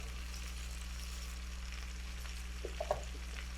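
Onion and bacon fry in a full pan with a steady, quiet sizzle, plus a few soft clinks and scrapes of stirring near the end.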